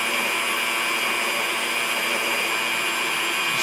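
An electric mixer beating egg whites for a frosted sheet cake, a steady high whirring motor hum held at an even level, close and with no talking over it.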